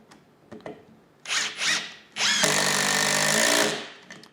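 Würth M-Cube 18V impact driver at speed setting 3 driving a screw, with a few short trigger blips and then a loud sustained run of rapid hammering that lasts about a second before stopping, close up.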